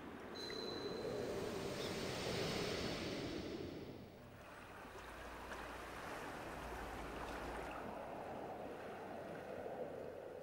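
Steady wash of ocean surf behind the mansion in Project Zero 3, a continuous broad rushing roar that dips briefly partway through, then carries on at moderate level with no voices.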